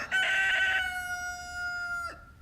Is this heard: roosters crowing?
yes